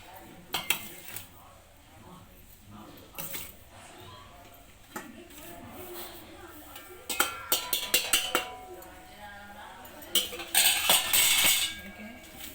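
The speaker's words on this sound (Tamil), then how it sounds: "இப்போ நம்ம என்ன செய்வோம்னா சலிக்க போகிறோம்." Ground rice flour being sifted through a metal sieve, giving irregular tapping and clinking bursts of the sieve rim, louder rattling clusters toward the end, with a voice speaking softly in between.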